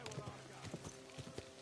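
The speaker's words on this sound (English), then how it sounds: "Don't you know how to keep your horse under control?" Horse hooves clip-clopping on a road in the video game Kingdom Come Deliverance II, several quick hoof strikes with a voice talking over them.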